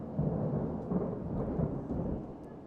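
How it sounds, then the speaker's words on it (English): Distant thunder rumbling during a storm at a women's cricket match ground, a low sustained roll with soft swells, rain faintly hissing underneath and no talk. "you can hear that thunder now"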